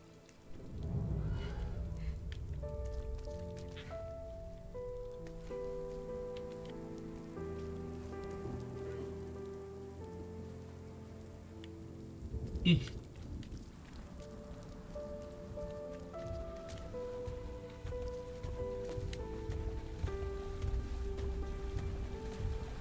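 Rain falling in the video game RiME: a steady patter and hiss of rain on surfaces under soft, sustained musical tones, with one brief louder splash or impact midway.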